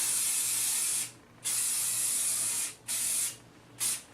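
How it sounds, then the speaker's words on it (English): Four bursts of hairspray from an aerosol can hiss close up, the first long and the rest shorter, separated by brief pauses. "You can just spray it all over."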